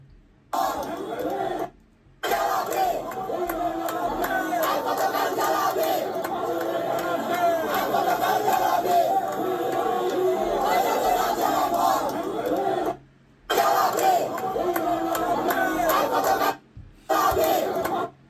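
Protest crowd at the Shahbag intersection chanting slogans in unison, a loud, dense mass of voices that rises and falls continuously, broken by a few brief cuts.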